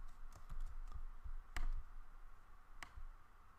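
Quiet, sparse clicks of typing on a computer keyboard, a few scattered keystrokes with two sharper taps, close by and alone.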